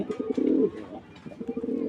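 Male pigeon cooing close by in a loft of domestic breeds, a few soft throaty coos rising and falling with brief pauses, alone without talk.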